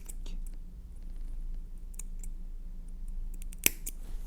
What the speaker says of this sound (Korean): 집에 있는 가위로 이렇게 한쪽씩 잘라주시면 됩니다